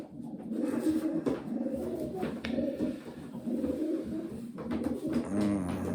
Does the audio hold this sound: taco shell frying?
no